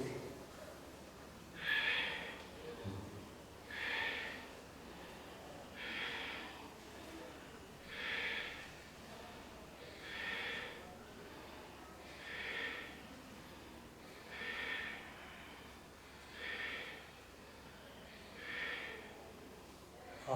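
Slow, deep yoga breaths during a forward bend in Baddha Konasana, about nine even exhalations spaced roughly two seconds apart, airy and close with a soft rushing texture in a quiet room.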